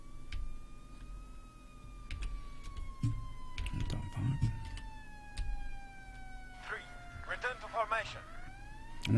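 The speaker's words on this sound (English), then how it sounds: "I wonder if I got an ambulance." A video-game ambulance siren during a bank robbery wails, gliding slowly downward in pitch, steady and prominent, with brief voices and clatter breaking in underneath.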